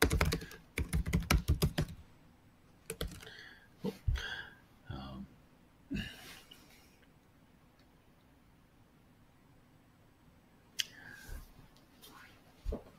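Bursts of clicky computer keyboard typing into a chat window, close and fairly loud at first, then sparse taps with long quiet gaps and a few more keystrokes near the end.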